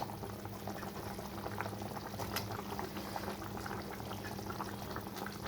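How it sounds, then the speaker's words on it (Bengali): Chital fish curry broth, thinned with hot water, boils vigorously in a pot, a continuous close bubbling and seething with small pops and a low steady hum beneath. "যেহেতু গরম জল দিয়েছি, তো ঝোলটা খুব ভালো মতো ফুটে গেছে"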